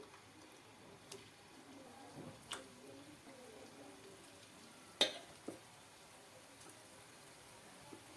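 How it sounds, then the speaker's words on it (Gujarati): Potato pieces fry in hot oil in a kadai, a soft, low-level sizzle with a few sharp clicks and drops as pieces go in, close by and without talk. "તેલ પણ આપણું સારી રીતે ગરમ થઈ ગયું છે એમાં આપણે બટેટાને નાખી દેશું"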